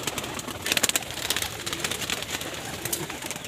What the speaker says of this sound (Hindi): ये माशाल्लाह से कबूतर हो गए सारे,